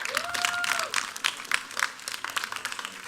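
An audience applauds after a devised theatre performance about COVID-19 lockdown experiences, moderate clapping with individual claps standing out and a brief whistle near the start, thinning slightly toward the end.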